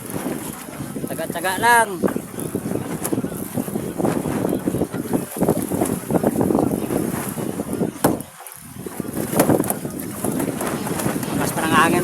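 Strong wind buffets a small fishing boat out at sea, a rushing roar and microphone buffeting under a man's speech, with water chop and a brief lull near the end.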